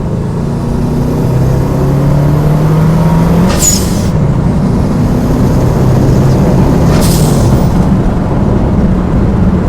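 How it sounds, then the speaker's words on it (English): Turbo engine of a Subaru-swapped Peugeot 206 roaring loudly, with two sharp, hissing blasts from a very loud dump valve about three seconds apart. "dump valve is so loud"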